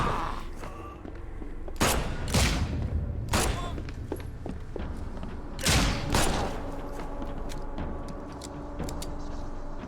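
Several loud gunshots from a firearm in The Sinking City video game, spaced irregularly across the stretch with ambient game noise and some voice underneath.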